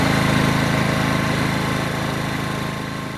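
A Honda generator engine runs at a steady 1600 RPM, a loud, close, even mechanical drone with a regular low pulse that fades slightly toward the end.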